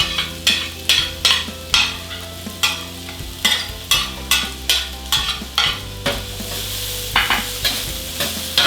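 Garlic, onion and ginger fry in an electric skillet while a utensil scrapes and stirs in a steady, regular rhythm over a constant loud sizzle.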